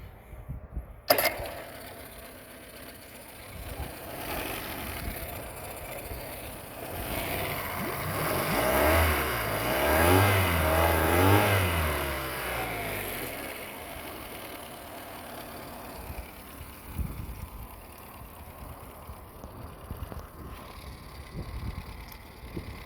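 A 2014 Yamaha 9.9 hp carbureted outboard motor runs steadily on an external fuel tank and hose, a continuous low engine drone that swells in the middle with a rising and falling pitch, then settles back to a quieter idle.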